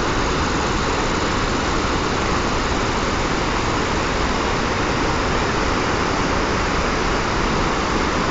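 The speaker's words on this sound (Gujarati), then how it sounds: "આ છે પાણી જે ડેમ પરથી છોડેલું છે" Water released through the open gates of the Ukai dam during a flood: a steady, dense roar of rushing water that stays loud and unbroken throughout.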